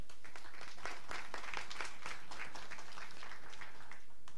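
Spectators at a women's 10m air rifle standing SH1 final in Chateauroux give a shooter a short burst of fairly faint, steady applause.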